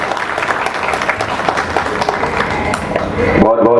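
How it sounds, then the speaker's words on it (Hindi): Audience applause welcoming a performer at an Independence Day celebration, a steady dense wash of clapping lasting throughout, with voices mixed in and a brief sharper burst near the end. "तो जोरदार तालियों से स्वागत कर दीजिए भाई इनका"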